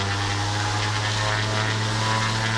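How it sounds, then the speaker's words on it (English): SeaRey experimental flying boat engine roaring at full throttle for takeoff, a loud, steady droning hum with a strong low tone, heard close and continuous throughout. "here comes full throttle"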